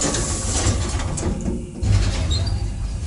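Electric passenger elevator doors opening on a lift rated 1 m/s and 400 kg, a steady mechanical whir and rumble with a heavier low surge near the end, fairly close, with no talk.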